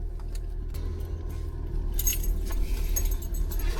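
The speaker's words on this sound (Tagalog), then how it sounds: "Nandiyan na susi." A bunch of keys jangles and clinks in a steady rustle over the low rumble of a car engine, close by during a spring break outing.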